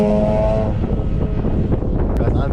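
A Mazda RX-8 rotary engine runs with a loud, rough, buzzy rumble, heard up close alongside wind buffeting on the microphone.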